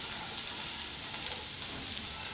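Garam masala frying in a hot pan, a steady dense sizzle with faint stirring, close and continuous, no voices.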